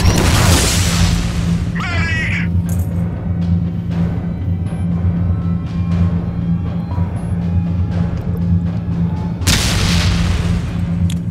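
Grenade blasts in the VR shooter Dead Effect 2 VR, a heavy boom opening the stretch and another near the end, with low rumbling, scattered game effects and a constant hum in between.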